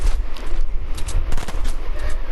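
Fortnite gunfire rattles in rapid, uneven bursts of loud close shots, interspersed with distant pops, continuous across the whole stretch.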